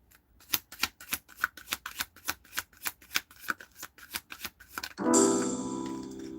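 Tarot cards are shuffled by hand in a quick, even series of about twenty crisp riffling snaps. A louder, sustained swish and clatter follows as the deck is bridged together.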